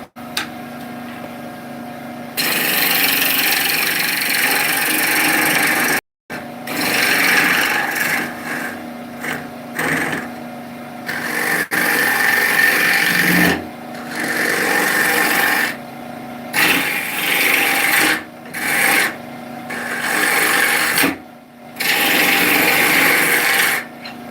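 A wood lathe turns a bowl as a cutting tool scrapes and shaves the spinning wood, giving a loud, close, continuous rasping that stops and restarts in several bursts, with no talking.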